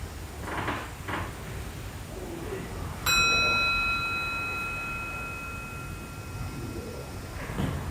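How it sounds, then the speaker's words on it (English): Meditation bell struck once partway through, a clear bright ring with a long shimmering decay over quiet room tone, after soft speech at the start. "So I'm just going to ring the bell to get us started."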